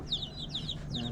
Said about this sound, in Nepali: यो चाहिँ लोकल चल्ला